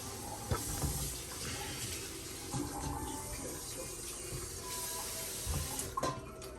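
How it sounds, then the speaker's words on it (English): Water pours into an Instant Pot while making beef stew, a steady running rush like a tap filling a vessel, with a few faint knocks and clatters, no talking. "you want to just add water"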